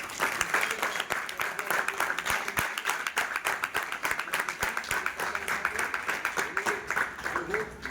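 A temple gathering audience claps together in sustained, dense applause, many hands beating in a fast irregular patter that stays loud and close throughout, with no break.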